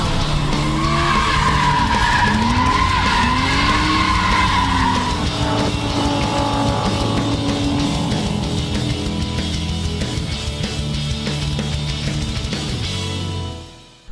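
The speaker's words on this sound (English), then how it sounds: "today we have a BMW M3 E46 that's been prepared for drifting" A BMW M3 E46 with the S54 engine, prepared for drifting, slides with loud continuous tire squeal over a revving engine whose pitch swings up and down, the screech easing off slightly toward the end.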